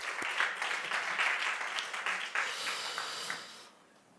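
A church congregation at a Korean New Year's Eve worship service claps together, a dense, steady burst of applause from the crowd that trails off toward the end.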